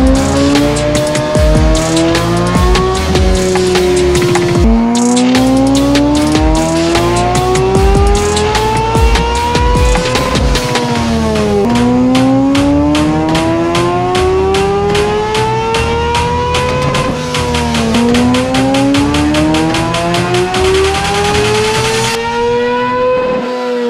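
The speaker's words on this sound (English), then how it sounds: "Right now we have a track bike actually that's on the dyno." A 2022 Kawasaki ZX6R track bike with Graves velocity stacks runs on a dyno, its high-pitched engine climbing steadily through repeated full-throttle pulls with sharp drops at each gear change, loud and close throughout.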